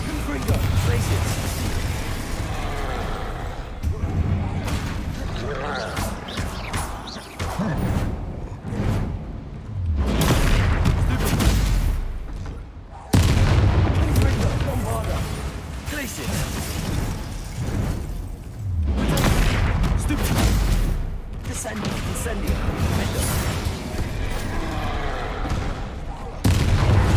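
Bombarda and Confringo spell explosions erupt in the video game Hogwarts Legacy, rapid, loud booms and popping blasts that repeat almost without a break in a chaotic combat din.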